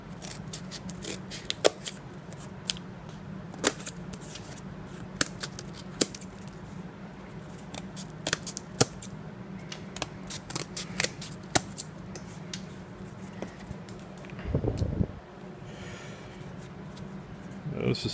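Everyday-carry scissors cutting shipping cardboard, sharp irregular snips and crunches at close range, with someone speaking over the cutting.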